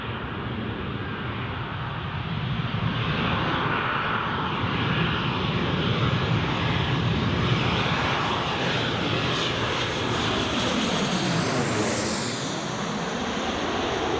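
A Ryanair airliner arrives at Newcastle International Airport in rainy weather, its jet engines a loud, steady broadband roar that swells and holds for the whole stretch, with a faint rising whine near the end.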